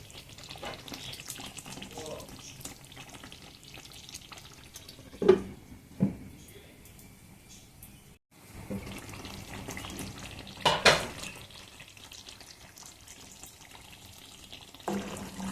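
Masala-stuffed brinjal curry simmers in oil on a stove in a soft, steady sizzle, with a few sharp utensil clinks breaking through.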